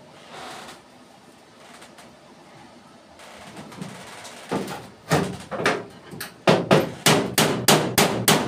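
Hammer blows on a warm car boot panel being knocked out from a dent, starting sparse and then settling into a loud, steady run of close metallic taps near the end.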